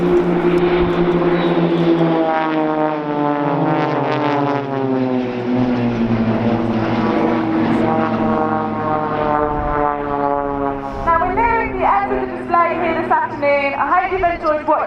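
Blades aerobatic team propeller aircraft flying the Gatling manoeuvre at Dunsfold Wings & Wheels 2014, a loud continuous engine drone with pitch sliding down as they pass, turning to wavering overlapping tones near the end.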